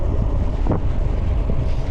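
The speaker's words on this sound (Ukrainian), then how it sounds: "І причому вітер мені в лице це трохи зупиняє" Strong wind buffets the microphone, a loud low rumble with gusty surges throughout, while cycling in the mountains.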